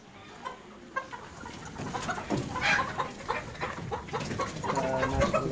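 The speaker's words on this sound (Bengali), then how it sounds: "এগুলো কি সব ফার্মি মুরগি নাকি?" Chickens in a poultry farm of about 250 birds, a mix of broiler and native hens, clucking repeatedly in overlapping bursts that grow busier and louder, close by and without talk.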